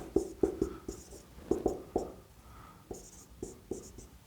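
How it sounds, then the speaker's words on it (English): Marker strokes writing equations on a board, a quiet, close sequence of short squeaky taps and scratches in uneven bursts with brief pauses between, no voice over them. "Now I'll write them both next to each other first"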